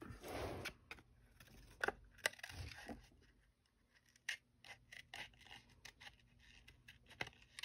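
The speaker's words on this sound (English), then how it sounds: "I will go ahead and cut that out." Scissors snip through paper to cut out a small tassel shape for a handmade graduation card, giving close, quiet, irregular cuts and rustles with short pauses between them.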